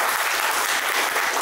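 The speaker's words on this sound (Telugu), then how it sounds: "ఒకసారి మా సర్పంచ్ సార్కు గట్టి చప్పట్లతో" Loud, dense applause for a village sarpanch at a school alumni get-together, a brief continuous wash of many hands clapping.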